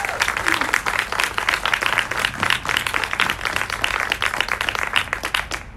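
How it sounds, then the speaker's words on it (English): A community garden audience gives a round of applause for debate candidates: dense, steady clapping from many hands that fills the whole stretch at a loud, even level. "Can we get a round of applause for our candidates?"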